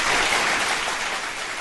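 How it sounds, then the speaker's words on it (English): Dense, steady round of applause, a continuous hiss-like wash of many hands clapping together, fairly loud and unbroken for its short length, with no voices over it. "We're going to give you a big round of applause."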